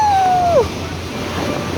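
Ocean surf breaks on the shore of Gapado island off Jeju, a loud, steady wash of waves and wind noise, with a brief high vocal whoop at the start.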